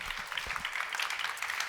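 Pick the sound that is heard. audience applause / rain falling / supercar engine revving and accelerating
audience applause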